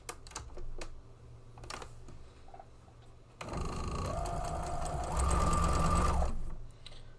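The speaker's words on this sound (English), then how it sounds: "Line up the edge and just kind of sew along." Sewing machine stitching along a fabric edge: a steady, loud mechanical whir of rapid needle strokes that runs unbroken for several seconds and speeds up near the end, preceded by quieter handling clicks.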